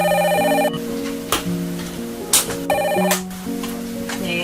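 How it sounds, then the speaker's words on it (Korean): A telephone rings in two repeated electronic ring bursts separated by short gaps, loud and clear with no talking, the call coming into a school office. "그날 오후 두 아이의 보호자로부터 전화가 걸려왔습니다."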